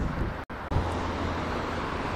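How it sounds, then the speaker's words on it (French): Steady broadband wind rumble and buffeting on the Rouen riverside quays, loud and continuous with two brief dropouts. "Il fait un peu frisqué, un peu de vent"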